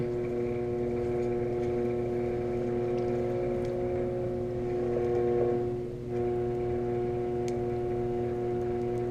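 A potter's wheel hums steadily at reduced speed while a clay pot is rounded out, a continuous even drone with a brief dip near the end.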